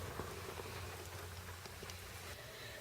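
Steady rain pattering on the roof of a motorhome, a dense, faint hiss of drops with occasional sharper taps and a low hum underneath, with no voices.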